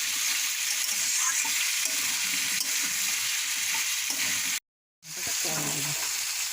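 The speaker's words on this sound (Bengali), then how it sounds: "এখানে এখন এটা ভাজাভাজি কষা চলছে।" Spices fry in a wok with a steady loud sizzle while being stirred, as the base for a meat ghugni is cooked; the sound cuts out briefly near the end, then resumes.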